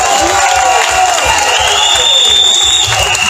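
A large crowd at a political rally in Côte d'Ivoire claps and cheers loudly, a dense wash of applause with voices and whistles mixed in throughout.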